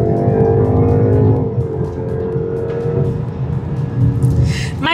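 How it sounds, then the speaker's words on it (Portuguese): A 2026 BMW X3 30 xDrive MSport accelerating hard in sport driving mode, a loud, close engine roar that holds strong and rises through the whole run, with a brief gasp or voice near the end. "Isso aqui acelera uma barbaridade"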